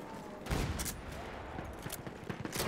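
Rapid bursts of machine gun fire echo through a Battlefield 1 multiplayer match, dense overlapping shots with sharp cracks rising above a continuous battle din.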